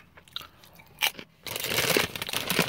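Chicharrones, hot pork skin snacks from Carolina Country Snacks, are bitten and chewed close up, with a few sharp crunches followed by sustained dense crackling as the crisp rinds break apart.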